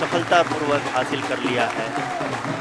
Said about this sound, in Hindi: आप तालियों की गड़गड़ाहट से सुन सकते हैं कि